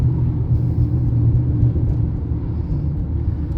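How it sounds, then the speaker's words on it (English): A car drives over a bumpy road surface near a roundabout, giving a steady low engine and road rumble from inside the cabin, loud and continuous with no talk. "Apologies for the bumps, it's because of the road surface."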